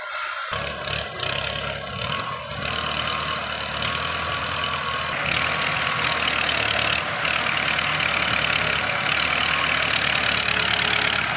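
A truck loaded with sugarcane runs its heavy engine steadily close by, a continuous rumbling drone that grows slightly louder and rougher as the wheels spin freely, with no voices.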